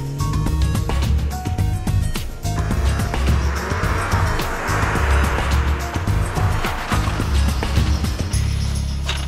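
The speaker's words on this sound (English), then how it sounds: "He then brakes hard and hopefully won't hit the cones" A car brakes hard from 50 mph on legal tyres during a test run toward a line of cones. The engine roars loudly and close, with tyre squeal and skidding running almost throughout and no voices.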